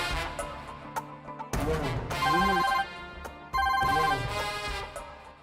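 A telephone rings repeatedly while a call is placed, two loud bursts of ringtone with steady tonal chimes, separated by quieter stretches of background music.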